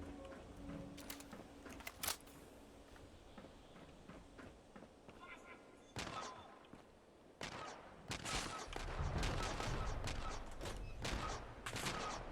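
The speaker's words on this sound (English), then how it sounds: "Oh, they're shooting at me." Enemies fire guns in the video game Fallout 76, a string of sharp gunshot cracks and short bursts that grow denser and louder toward the end, mixed with game sounds and a voice talking over them.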